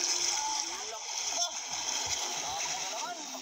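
A splash of someone plunging into water during a fishing outing, churning and sloshing throughout the short moment, with voices talking over it.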